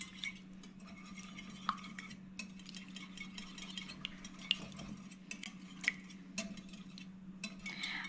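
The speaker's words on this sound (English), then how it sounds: "So once you've added all of these things together, just whisk until well combined." Eggs being whisked into Kerala-style fruit cake batter in a bowl: a steady, close scraping whir with occasional sharp clinks of the whisk against the bowl, and no talking.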